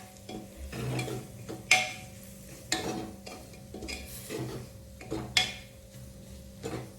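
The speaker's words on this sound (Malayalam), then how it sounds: "ഇതിലേക്ക് കുറച്ചൊരു എണ്ണ ഒഴിച്ചു കൊടുക്കാം. പൊടി ഒന്നും കൂടി ഒന്ന് മൂത്തോട്ടെ." Spice powders roast in oil in a pan for a beef dish, with a spoon repeatedly scraping and clinking against the metal over a faint sizzle, in a steady stirring rhythm.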